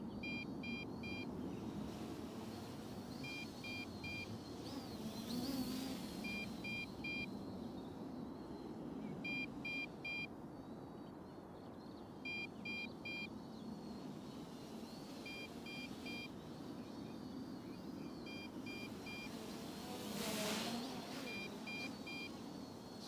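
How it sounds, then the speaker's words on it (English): Small MJX Bugs B2W quadcopter with brushless motors flying outdoors, its steady motor whine pushed harder at times, heard from a distance alongside repeating electronic beeps. "Working the motors a bit harder now."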